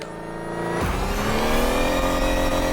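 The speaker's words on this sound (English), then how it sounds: "Do you hear how it does have some sort of revving sound behind it?" An electric car motor in the racing game The Crew Motorfest revs up with a rising whine that climbs smoothly in pitch, loud and sustained, layered over a steady engine hum.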